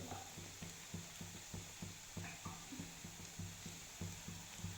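Onion fries in a pan for an egg biryani, giving a steady background hiss under a regular series of soft, low thumps that repeat evenly throughout, quiet and without voices.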